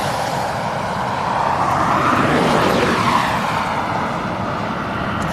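A West Atlantic airplane turns onto the runway at East Midlands Airport with a loud, steady engine roar and a broad rushing whine that swells slightly midway, heard close and without talk.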